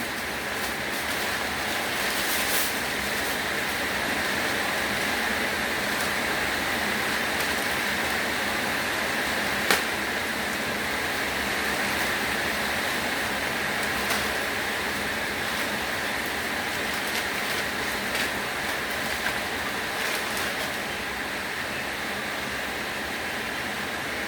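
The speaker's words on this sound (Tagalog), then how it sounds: "Lakas ng ulan." Steady, heavy rain pours down continuously, a dense hiss with occasional louder spatters, no voices.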